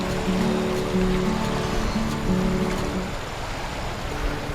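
The strong current of the Abayaoan River in San Nicolas rushes in a steady, close, full wash of flowing water, heard alone at a riverside campsite.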